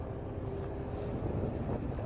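A sailboat cruising on engine across a calm sea gives off a steady low rumble blended with wind and water noise, continuous and fairly quiet throughout.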